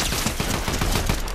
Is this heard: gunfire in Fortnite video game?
yes